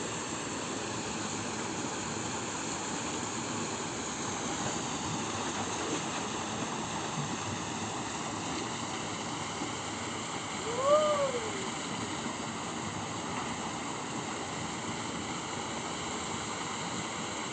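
Mini waterfall tucked in forest near Uthukkottai, its constant close rush of water running unbroken throughout, with a brief faint bird-like chirp partway through.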